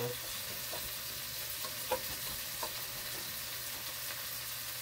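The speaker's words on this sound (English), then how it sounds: "The rice, we're going to mix it up a little bit more." Chicken and rice frying in a pan with a steady low sizzle, while a few soft scrapes and clinks of stirring punctuate it at irregular intervals.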